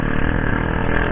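A motorcycle fitted with a new aftermarket exhaust rumbles steadily and loudly, up close and alone, on a street in Subang.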